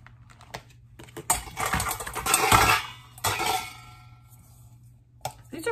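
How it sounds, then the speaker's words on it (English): Lightweight stainless steel mixing bowls get their lids pressed and fitted on, making close metallic clinks and rustling plastic snaps in a busy burst, then a few isolated taps after a pause. "Make sure all of my lids fit nice and snug."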